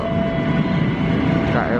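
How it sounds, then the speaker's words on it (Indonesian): KRL commuter electric train on the Jogja-Solo line rumbling past close by, a steady loud roar with a faint tonal whine running throughout. "Dari jalur 2 ada KRL"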